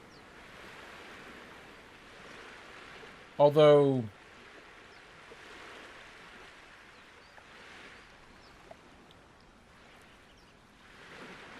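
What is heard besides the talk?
ocean waves from a video game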